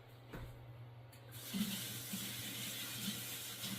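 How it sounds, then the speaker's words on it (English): A kitchen faucet is turned on and runs steadily while lemongrass is rinsed under it for shrimp broth. A faint rush rises into a continuous nearby splashing stream after a quiet start. "lemongrass, let me wash it real quick"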